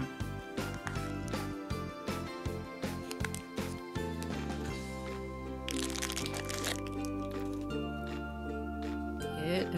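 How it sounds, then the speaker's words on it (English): A chocolate surprise egg shell cracks and breaks in a quick series of close, sharp snaps, followed by crinkling plastic and foil, with a voice talking over it. "look, we have chocolate, it's breaking off, and then we have plastic"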